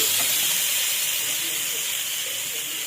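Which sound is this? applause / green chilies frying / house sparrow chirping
green chilies frying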